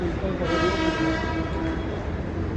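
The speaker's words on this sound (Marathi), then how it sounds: "हे आली लोकल" A local suburban train pulls into the station with a loud, sustained horn blast over the rumble of its approaching cars, close and continuous.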